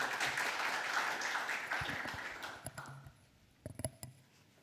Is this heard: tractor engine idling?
no